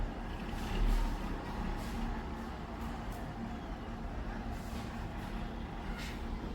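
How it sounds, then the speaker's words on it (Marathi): A truck rumbles outside a house in Mumbai as a steady low engine drone, moderately distant, with faint background noise and no talking. "कसली गाडी आली काय माहिती ट्रक"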